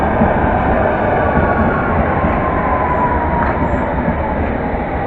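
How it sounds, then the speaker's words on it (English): A London Underground Metropolitan line train runs into Pinner station on its way from Baker Street to Amersham, its steady rolling rumble and rail noise loud and close throughout, with no talking. "also coming in is the London Underground Met Line service from Baker Street to Amersham"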